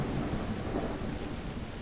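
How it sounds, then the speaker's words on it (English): Soft rolling thunder in the video game Call of the Elder Gods, a faint, muted rumble blended with steady rain noise, low and even rather than booming, with no talk. "Do appreciate too that the thunder and lightning are not booming."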